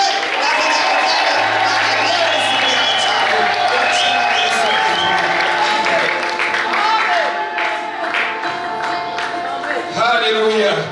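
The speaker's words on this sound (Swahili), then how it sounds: "Najua na mkutano utapiga tena shangwe na vigelegele." A church congregation at an evangelistic service cheers, claps and ululates loudly and continuously, with warbling high ululations rising over the crowd's roar throughout.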